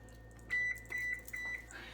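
A kitchen timer being set for 15 minutes during home cooking gives a quick series of short, clear electronic beeps, some in close pairs, over a quiet kitchen background.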